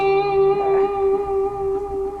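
A guitar played with a clean tone rings out a single steady, sustained note with clear overtones, alone and fairly close, with no talking.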